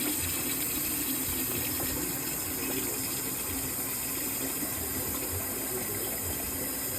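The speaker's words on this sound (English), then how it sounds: "Then I'm just gonna run cold water" Cold tap water runs steadily into a sink over boiled eggs, a constant moderate splashing rush with an even flow and no voices.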